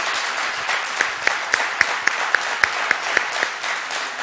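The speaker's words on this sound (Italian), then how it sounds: "Fatevi sentire con gli applausi." A live audience at a music event applauds steadily, a dense wash of clapping with a few sharper claps standing out, sustained and fairly loud throughout.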